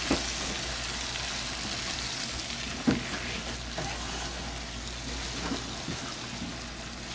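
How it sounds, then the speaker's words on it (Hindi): Mixed vegetables sizzling and being stirred in a hot pan, a steady quiet fry with a few soft scraping clanks of the spoon, no talking. "इसमें हम सारी अपनी सब्जियां ऐड कर रहे हैं। इसको अच्छे से मिक्स करेंगे।"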